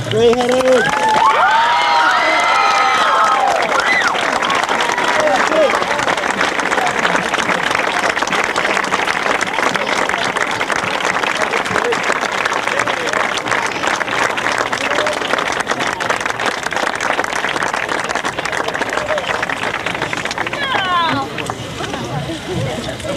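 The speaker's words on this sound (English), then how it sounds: "please stand, face these people, and applaud them for all their help." A 1994 high school graduating class stands and applauds, producing dense, steady clapping that fills the hall, with scattered cheers at the start and continuing evenly for over twenty seconds.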